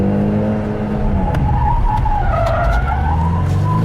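A 2024 Ford Mustang drifts with its drift brake engaged, engine roaring steadily while the tires skid and squeal loudly and continuously, the tone rising and wavering through the slide, close and without talk.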